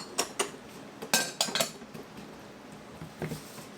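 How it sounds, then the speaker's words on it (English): A whisk clinks and taps against a bowl while sugar and salt are mixed, a few sharp metallic knocks in quick bursts, fairly close and moderately quiet, with no talking. "Just whisk that all together."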